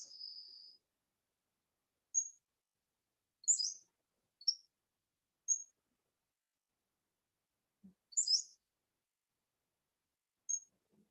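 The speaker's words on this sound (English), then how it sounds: "So I'm curious if you can hear the birds tweeting in the background here." Sparse high chirps and tweets from birds come in short scattered bursts, separated by stretches of near silence, faint and somewhat distant.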